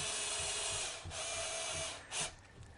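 A power drill whirs steadily close by, spinning a ball link onto a threaded rod for the rudder of a 50cc Extra RC plane, with a short burst of higher speed near the end.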